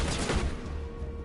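Pistol fire in a video game: a quick burst of sharp, close shots at the start, then a decaying echo fading into quiet.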